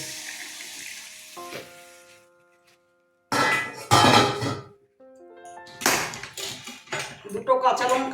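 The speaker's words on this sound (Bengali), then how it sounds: "আমার কষানো হয়ে গেছে আলু বেগুন এবার গরম জল দিয়ে দেবো" Hot water poured into a pan of sautéed potato and eggplant, with two bursts of splashing and sizzling separated by quiet, plus faint clinks and a brief tonal ring early on.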